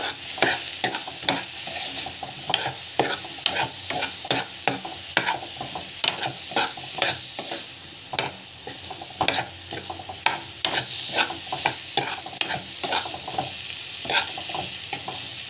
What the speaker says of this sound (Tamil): நல்லா வந்து இப்படி வதக்கிக்கணும்.